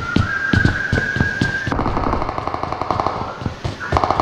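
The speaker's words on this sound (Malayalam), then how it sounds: "പക്ഷെ അവിടുന്ന് ആളൊക്കെ വേടി വെക്കുന്നുണ്ട്" Rapid automatic gunfire in PUBG crackles in dense bursts throughout, with a sustained whistling tone over the first half and sharper shots near the end, loud and close with no talk.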